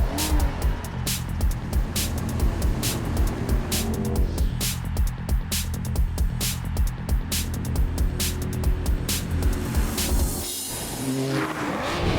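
A Mazda CX-9, a large family car, drives past with a steady engine note and repeated tire noise, loud and continuous with no talk over it.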